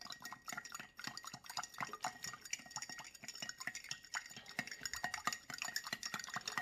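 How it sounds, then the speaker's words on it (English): A spoon stirs sugar into a liquid for Jell-O shots, making quiet rhythmic clinks and swishes against the container that repeat steadily throughout. "Give that a good stir."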